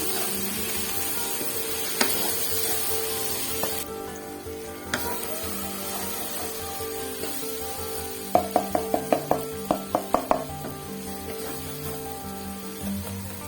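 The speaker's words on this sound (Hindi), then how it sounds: "अब इनको हम इसी मसाले के अंदर भूनेंगे अच्छे से।" Chopped onions sizzle steadily in hot masala for an egg curry, a continuous close frying hiss with a quick run of spoon or pan clinks partway through as the mixture is stirred.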